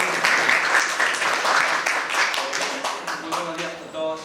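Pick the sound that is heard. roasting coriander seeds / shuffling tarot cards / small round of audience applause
small round of audience applause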